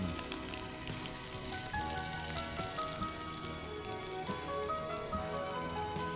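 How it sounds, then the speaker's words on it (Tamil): Cumin seeds and garam masala spice powder frying in hot oil, giving a steady, close, dense sizzle and crackle that holds evenly throughout with no voices. "எண்ணெய் சூடானதுக்கு அப்புறம் ஜீரகம் போட்டோம்."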